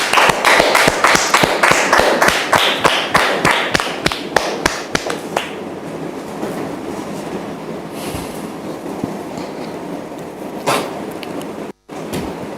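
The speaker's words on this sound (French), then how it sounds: "Je vous demande de la recevoir sous vos applaudissements, s'il vous plaît." Applause from a TV studio audience welcoming a guest onto the set, a dense burst of clapping for about five seconds that fades into quiet room noise.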